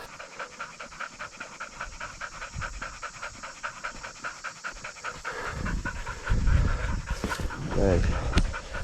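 Hunting dogs after a mountain boar hunt pant in quick, steady rhythm up close, then a voice breaks in over the breathing.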